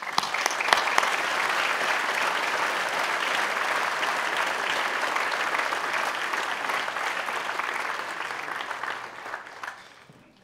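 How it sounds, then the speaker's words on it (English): A large graduation audience gives honorees sustained, dense applause, steady and loud for about ten seconds before tapering off at the end. "let's give them a hand"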